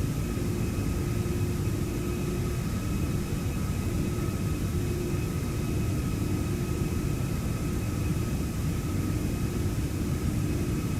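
An Airbus A340 jet in a flight simulator game makes a flyby, a steady broad roar and rumble with faint engine tones, holding even and continuous for the whole stretch with no voices.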